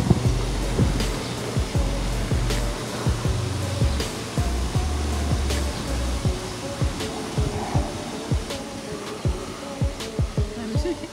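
Outdoors on a campus, wind buffets the microphone in a steady roaring rumble with gusty low thumps throughout, loud and continuous, with faint voices buried beneath it.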